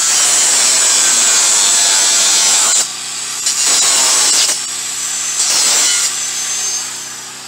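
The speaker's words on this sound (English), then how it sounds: "Gotta love an angle grinder." An angle grinder runs continuously and loudly up close, with a high, steady whine that dips briefly a few times as it bites into the work, throwing sparks.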